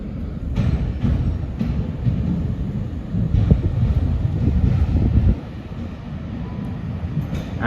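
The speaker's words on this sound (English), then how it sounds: "Arriving now is the 12:27 Great Western Railway service from Portsmouth Harbour to Cardiff Central." A Great Western Railway diesel unit arrives at Portsmouth & Southsea station, its low rumble rolling steadily with wind buffeting the microphone, then easing off as it slows, with a faint squeal near the end.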